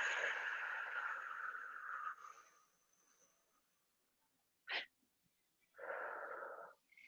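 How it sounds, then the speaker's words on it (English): Long audible exhale of breath work, loud at first and tapering into near silence, then a short sharp intake and a second rushing reflexive inhale. "Exhale as long as you possibly can."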